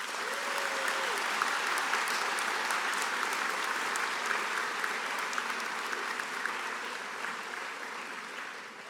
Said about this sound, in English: Let's give a round of applause to our distinguished guests.